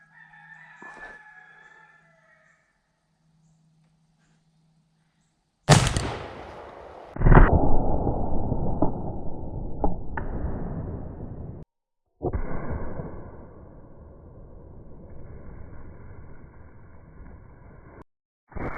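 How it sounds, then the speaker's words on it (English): An 1887 lever action repeating rifle chambered in 70-150 WCF fires a single loud, sharp blast partway through, followed by a decaying rumble and tail, with quieter outdoor sound before and after. "We're gonna run it home and then we're gonna shoot it. It's a 70 caliber lever action repeating rifle."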